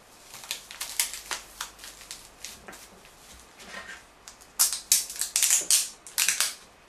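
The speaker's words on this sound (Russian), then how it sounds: "Фиксирую упаковку скотчем вокруг стаканчика и сверху." Packing tape being pulled and wrapped around a plastic cup holding a packed fuchsia cutting, heard as sharp, close crackling tears and rips in bursts, busiest near the end.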